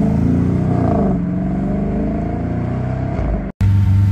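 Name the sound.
Bugatti EB110 engine running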